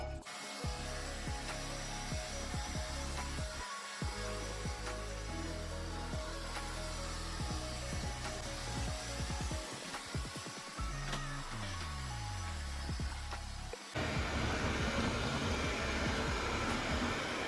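A Neabot Nomo Q11 robot vacuum hums along with a steady whirring motor and brushing, shifting pitch as it moves, punctuated by soft clicks and bumps.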